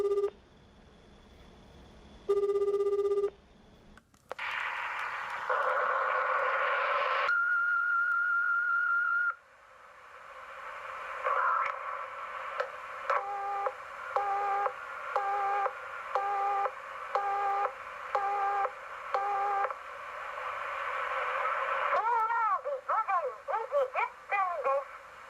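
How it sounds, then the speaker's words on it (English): A haunted voicemail plays back as electronic tones, beeps and warbling whistle-like sounds, a mix of sustained notes, a rapid repeating chirp pattern and wavering sweeps, loud and close with background hiss. "So we got some haunted voicemail."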